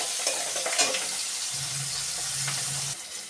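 Pieces of fish frying in oil in a pan give a close, steady sizzle and crackle with a few scraping touches, brief and with no one talking.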